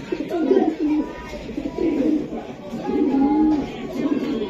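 A male racing pigeon coos in low, rolling phrases, repeated three or four times up close, with faint background voices.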